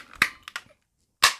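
A craft paper punch stamps through paper in a few sharp, close snaps: two quick punches, a short pause, then another crisp strike in an otherwise quiet room.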